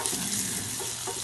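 Water pouring and splashing as cooked peas are drained, a steady close rush of liquid with no talk.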